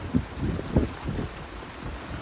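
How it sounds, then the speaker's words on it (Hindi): Strong wind buffeting a microphone high on an Icelandic hillside, low rumbling gusts that swell and fade unevenly, close and steady with no voices. "काफ़ी ऊपर मैं आ गया हूँ और हवा बहुत तेज़ चल रही है"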